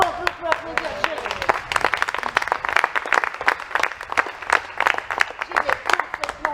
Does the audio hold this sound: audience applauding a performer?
yes